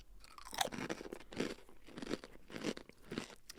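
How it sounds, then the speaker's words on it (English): Crunchy cookies being chewed up close, a steady series of sharp, brittle crunches repeating roughly every half second, quiet and isolated with no talking. "You can hear that crunch well."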